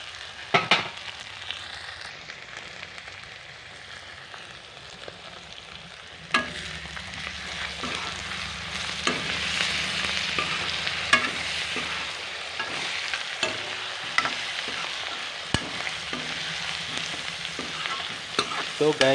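Spices for a pork curry fry in a pan with potatoes, giving a steady close sizzle broken by repeated scraping taps of a spoon stirring, with no voices.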